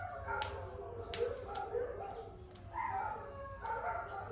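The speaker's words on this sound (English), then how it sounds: "Oh, hound. Hound dog. Hound dogs." Several hound dogs bark and yelp in bursts, with a howling, whining quality, at moderate distance over a steady low background hum.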